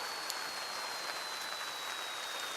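Steady rain falls outdoors during a cooking session at a grill, a dense, even hiss of drops with a few brighter taps, close and continuous, with no voices.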